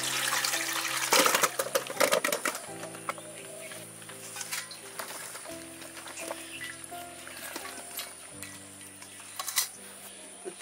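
Boiled amla (Indian gooseberries) are strained from a kadhai, giving bursts of splashing, draining water over steady background music, loudest near the start and fading to lighter trickles.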